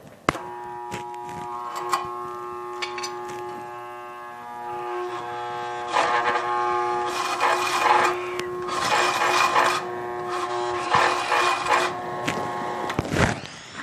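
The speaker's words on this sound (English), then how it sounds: "So this grinder doesn't like new 36 grit belts." A belt grinder runs a fresh 36 grit belt while shaping a Bowie knife, with a steady mechanical whine and bursts of harsh rasping grinding that come and go in several passes, ending in a sharp knock.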